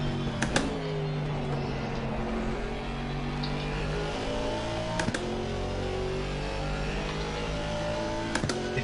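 Ginetta race cars lapping Barcelona in Assetto Corsa Competizione, several engines droning and shifting together with rising and falling gear whine, sharp upshift cracks recurring every few seconds, steady and moderately loud throughout.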